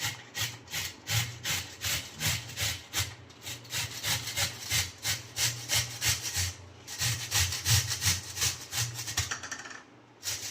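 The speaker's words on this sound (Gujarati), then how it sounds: "હવે આપણે બીટને ઝીણા જારથી ખમણી લેવાનું." Beetroot is rubbed back and forth over a fine grater in rapid, regular rasping strokes, roughly two per second, close and loud, continuing with only a brief pause near the end.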